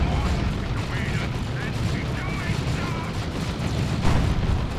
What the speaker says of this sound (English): Double tank shooting them down.